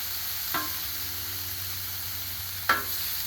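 Sirloin steak bites and vegetables sizzle steadily in oil on a Blackstone griddle, a constant frying hiss with two brief louder scrapes as the pieces are stirred around.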